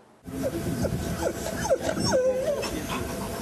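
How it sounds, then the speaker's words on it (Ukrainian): Detection dogs at a Ukrainian customs canine competition whimper and yip in a string of short, rising whines, close and fairly loud over a busy, noisy background. "На кінологічному турнірі собаки нервуються не менше за своїх тренерів."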